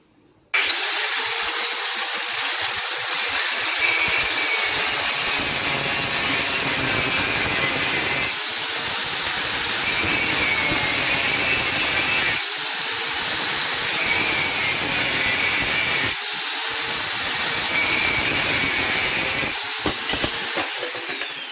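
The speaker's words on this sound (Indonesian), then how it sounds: "Sekarang kita coba dengan gergaji listrik." An electric saw cuts PVC pipe for a hydroponic rack with a loud, continuous whine and grinding rasp that rises and falls in several cutting strokes and runs close and steady without talk.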